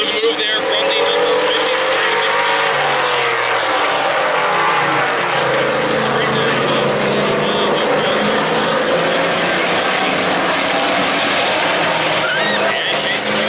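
Race cars in a heat race at Lake Doucette Motor Speedway roar steadily and loudly throughout, a continuous dense engine drone with shifting pitch as the field circles, with a commentator's voice running beneath.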